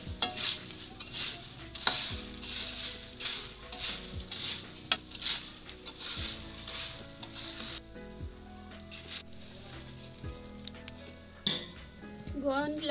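Edible gum (gond) fries until golden for a gond makhana recipe: a bubbling, crackling sizzle with bursts of stirring and occasional utensil clinks, fading quieter toward the end.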